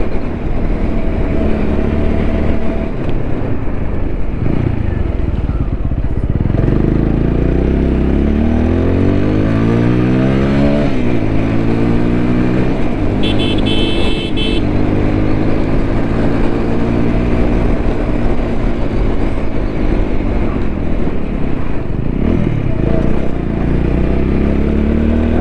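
A TVS Apache motorcycle rides along a road, its engine drone loud and steady with rising and falling rev sweeps, wrapped in constant wind and road rumble, no voices.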